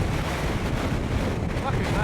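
Strong wind on the summit of Mount Kosciuszko blasts straight into the microphone, a loud, unbroken roaring rumble with no pause.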